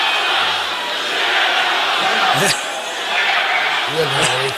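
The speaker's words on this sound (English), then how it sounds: "interesting chant from the crowd" A crowd at a 1997 mixed martial arts fight chants in a broad, distant wash of voices, with louder shouts near the middle and the end.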